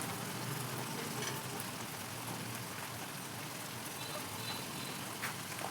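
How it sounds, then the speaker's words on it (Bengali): Spices and turmeric frying in hot oil in a pan, cooked down for a soybean and sesame curry: a steady, dense sizzle that crackles evenly throughout, close and constant with no voices. "এবার ভালো করে আমি কষিয়ে নেব।"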